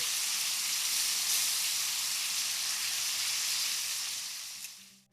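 Meat fat searing in a cast iron skillet on a camp stove: a loud, steady, close hiss and sizzle that fades briefly at the end, with no voices.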